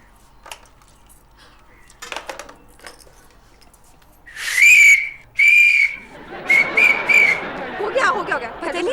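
A sharp, high whistle blown in bursts in a domestic setting, with two loud blasts and then a run of warbling toots over scattered clatter and brief talk.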